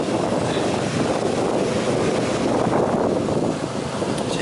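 A boat's engine rumbles steadily as it passes on the River Trent, with broad wind noise buffeting the microphone throughout.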